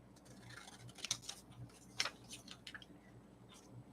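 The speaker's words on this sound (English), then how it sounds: "So let's just cut these 2 off from here." Scissors snip through paper while making a small collage, with two crisp cuts standing out near the middle over a faint steady hum. The sound is quiet and close, with no talking.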